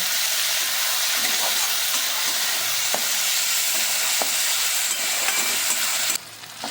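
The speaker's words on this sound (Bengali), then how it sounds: "এবার নেড়ে কেড়ে আর একটু কষিয়ে নেব" Onion, garlic, ginger and tomato sauté in a pan with a constant bright sizzle, while occasional spoon taps and scrapes stir through it. The sizzle drops away abruptly near the end.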